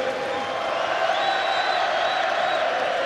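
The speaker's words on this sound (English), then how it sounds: "Belfast's faithful, Conlan's fans trying to raise the man." A Belfast boxing crowd roars steadily for Jamie Conlan in his fight against Jerwin Ancajas, a dense continuous wash of cheering and shouting with whoops rising above it, loud and sustained.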